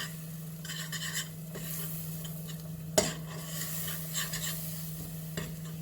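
Flour is stirred and roasted in a pan until pink, a soft scraping stir and gentle sizzle with a sharp clink of utensil on pan, over a low steady hum.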